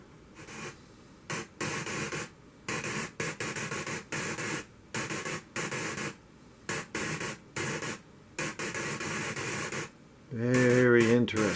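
Synthesizer patched to a digital white noise signal, producing bursts of hissing static chopped into irregular on-off pulses, ending in a louder warbling, sweeping tone.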